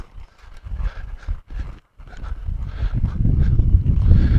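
A horse that has been laid off clops along at a walk, an uneven series of dull thuds with a short pause, growing closer and louder.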